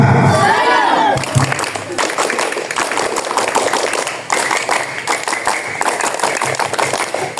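Scout-camp crowd at a Pramuka opening ceremony doing the rhythmic tepuk pramuka, a run of patterned group claps mixed with children's shouts and cheering, loud and close, with a voice speaking briefly at the start.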